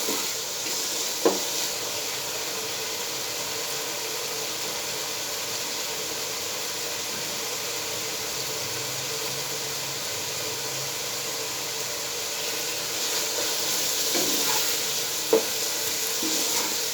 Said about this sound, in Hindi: मटर ऑलरेडी उबले हुए हैं और बस इसको मैं 1 से 2 मिनट इसको इस तरह अच्छी तरह भून लूँगा मज़ीद